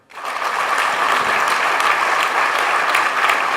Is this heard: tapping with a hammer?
no